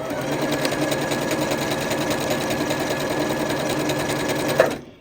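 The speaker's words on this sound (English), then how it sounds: "I'm going to go ahead and start stitching. It's going to stitch from the beginning." Janome Horizon Memory Craft 8200 QC sewing machine stitching at a steady, rapid whir, loud and close, running continuously alone before stopping abruptly near the end.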